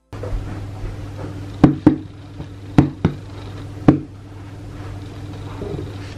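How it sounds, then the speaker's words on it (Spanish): Several sharp knocks on a firm, hollow-sounding cooked arepa, a pair and then single taps spaced irregularly, close up against a low steady hum. "Así suena una arepa cuando está lista, suena un poco hueca"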